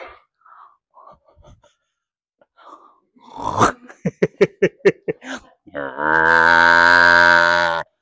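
On an eight-hectare farm, quiet voices and a burst of rhythmic pulsing sounds lead into one long, loud, close cow moo.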